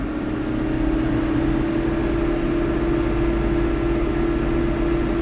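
A tractor engine runs steadily at PTO speed, near 1,000 RPM, to drive a mower, giving a loud, constant drone with a strong even hum throughout and no talk.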